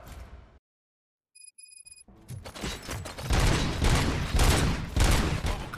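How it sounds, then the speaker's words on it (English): Gunfire in the RoboCop: Rogue City video game: a brief electronic beeping, then dense bursts of automatic fire and booming shots rattle on loudly and continuously. "Gunshots? What's going on?"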